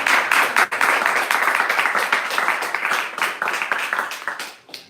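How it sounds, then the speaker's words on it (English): An audience in a full temple room breaks into sustained applause, dense continuous clapping that holds steady for several seconds and then tapers off at the end. "a big round of applause for Dayal for giving."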